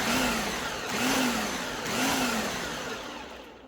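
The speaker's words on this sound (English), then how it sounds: "So I am putting the mango slices into the food processor." Food processor pulsing mango slices for jam, a steady motor whir rising and falling in three pulses, loud and close with no talking.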